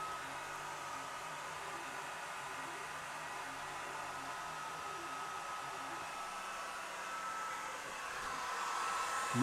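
An 18W Swiitol C18 Pro laser engraver and cutter running at 100% power, a steady close hiss of air-assist and fan noise with a faint high whine, rising slightly at the end.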